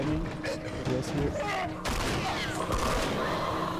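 Gunshots and loud booms in the video game The Last of Us, a dense burst of firing that swells partway through amid heavy game noise, with someone talking.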